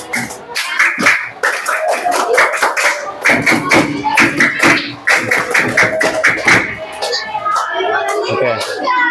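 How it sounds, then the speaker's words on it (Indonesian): Schoolchildren perform a rhythmic Pramuka (Indonesian scout) clapping routine in a classroom, with sharp patterned handclaps in quick bursts mixed with their chanting voices and brief pauses between sequences. "Tepuk pramuka."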